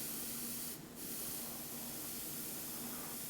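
A single action airbrush spraying paint, a soft, continuous close hiss of air that briefly thins out and returns as the trigger modulates the pressure.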